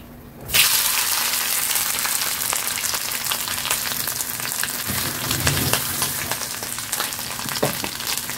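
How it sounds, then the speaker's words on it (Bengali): Fish coated in mustard oil and salt frying in a pan in a home kitchen, a steady close crackling sizzle that starts abruptly and continues throughout with faint stirring clicks. "আর এখানে মাছটা ভাজা করব।"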